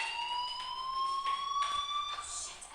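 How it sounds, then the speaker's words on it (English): Fire alarm ringing inside a school in the video game Life Is Strange, a steady electronic tone held throughout at moderate level, with no voices over it. "Hey, do you hear that fire alarm? That means you should be outside."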